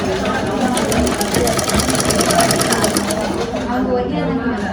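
Sewing machine stitching a folded seam on a cotton pillow cover, a loud continuous close-up whir with fast rhythmic stitch ticks running throughout under talk.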